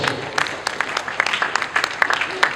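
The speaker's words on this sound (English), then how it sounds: "Give her another round of applause" An audience at a book launch in Odutola Hall, Ijebu-Ode, gives a round of applause, the scattered, moderately loud claps rising and falling in irregular bursts.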